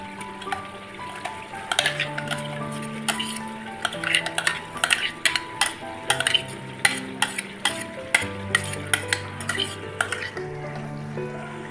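A spoon stirs browned onions and chillies in a pan for an aubergine bharta, each scrape and clink coming in a steady rhythm, close and clear over a low sizzle, with no talking.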